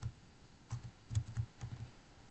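Quiet keystrokes on a computer keyboard come in short, uneven bursts of clicks, typing a login word in a calm indoor space.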